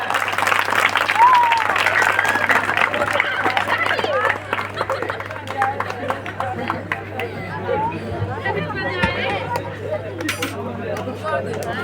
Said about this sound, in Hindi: एक बार जोरदार तालियों से स्वागत किया जाए।